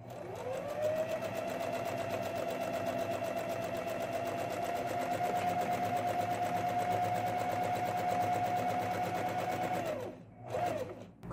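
A sewing machine stitches ruffles onto a baby jumper in one steady, close, whirring run lasting about nine seconds, then stops with a brief short burst after.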